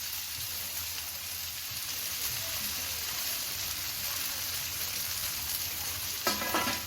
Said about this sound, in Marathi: ती कोथिंबीर सुद्धा हलवून घेऊ